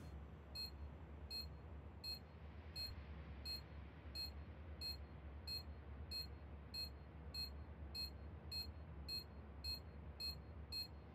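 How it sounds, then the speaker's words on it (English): Planted bomb in Counter-Strike 2 on the Nuke map beeps in a steady, evenly spaced series of short high electronic chirps, about fifteen, over a low quiet background hum. "Bomb has been planted"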